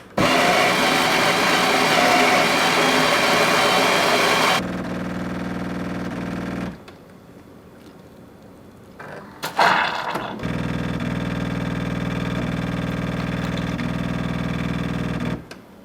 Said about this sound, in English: Two espresso. Simply press the espresso button twice.